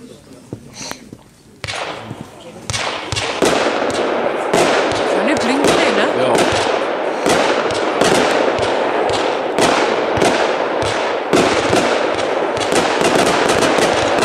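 A Moonshots 170-shot fireworks battery from the Black Hat Neon series goes off with a few scattered pops that build into a dense, continuous volley of sharp cracks and bangs, loud and a little distant.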